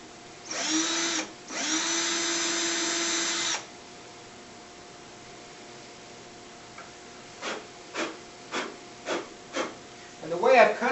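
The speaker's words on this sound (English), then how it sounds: "I'll just go ahead and drill a little pilot hole for the thread." Two sustained bursts of a power drill boring a small pilot hole in wood, close by, then a quieter pause followed by a series of short knocks and taps.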